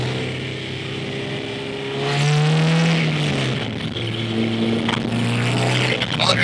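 A K20A2 four-cylinder engine in a Honda CRX climbs in revs under acceleration, a loud steady in-cabin drone that rises, dips, then rises again, with no talking.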